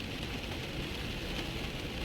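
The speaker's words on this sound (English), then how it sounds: "The sound of the rain is so beautiful." Rain falls in a dense, even hiss that stays constant throughout, with no voices over it.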